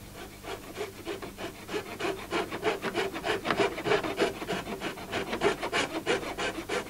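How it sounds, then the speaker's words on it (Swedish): A hand saw cuts back and forth through metal printing plates in an artist's studio, a close, steady rasping with regular strokes that gets louder and quicker midway and plays alone with no talk. "Sen använder jag dessutom min metod där jag sågar rätt mycket i plåtarna"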